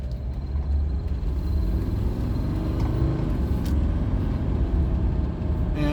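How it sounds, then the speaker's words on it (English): Mercedes OM617 diesel engine idling at a three-way stop, a low, steady, even rumble heard from inside the car, moderately loud with no talking. "So I'm gonna sit here at the 3-way stop, and the idle seems to be a little smoother."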